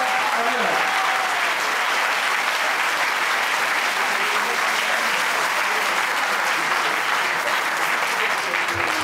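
A church congregation at an evangelical service breaks into sustained, dense applause, loud and even throughout with no pause, and voices can be heard faintly within the clapping.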